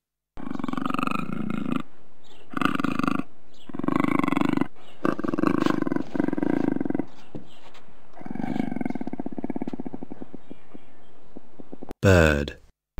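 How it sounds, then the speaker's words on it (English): Puma growling and snarling in a run of harsh, throaty bursts separated by brief gaps, close and loud, ending with a short higher cry. "Puma."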